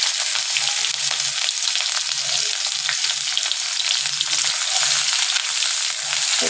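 Chopped onion and chili hitting hot oil in a home kitchen pan for a paneer dish, a steady close, loud sizzle and crackle with faint stirring scrapes throughout, no voices.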